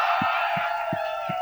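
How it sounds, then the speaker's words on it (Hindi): An audience claps and cheers for Katrina Kaif at a Tiger film event, a loud, steady crowd roar with four regular low thumps beating through it. "कटरीना नाम के लिए तालियां हो जाए बॉस"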